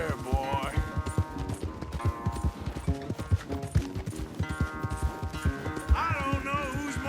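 Horse hooves gallop in a steady clip-clop rhythm through Red Dead Redemption 2, close and continuous under a dense backdrop of game music and effects.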